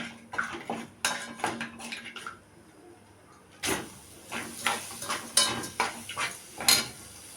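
Washed basmati rice is stirred in a pot with ghee and butter, giving close, uneven scraping and clinking of a spoon against metal, with quiet pauses between strokes.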